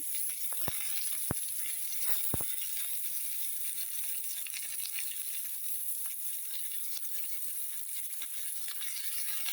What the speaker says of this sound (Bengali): এখন পেঁয়াজ কুচিটা ভালোভাবে ভেজে নিবে